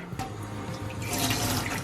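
Running cold tap water splashes steadily over a Ford Fiesta ST air filter being rinsed, a close, continuous hiss of water with small splattering shifts.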